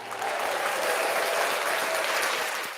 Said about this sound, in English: So you need to give yourself a round of applause.